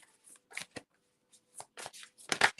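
Tarot cards being shuffled by hand: soft, papery riffles and slides in several short, irregular bursts, quiet and close, with no talking.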